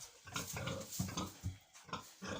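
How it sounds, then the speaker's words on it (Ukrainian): Young pigs grunt in a close series of short, rough oinks and snuffles, coming in quick irregular bursts at a fairly low level, with no talk over them. "Ось гомонить як. Це в нас молоденькі свині."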